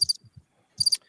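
Crickets chirp in short, high trilling bursts, a quick pair of pulses, a pause, then another cluster near the end, all alone with no talk. A soft low thumping appears under the chirps.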